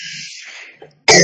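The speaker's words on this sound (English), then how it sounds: "Sorry for my coughing." A woman still recovering from whooping cough gives a sudden harsh, loud cough close to the microphone after a faint breathy lead-in and brief throat sounds.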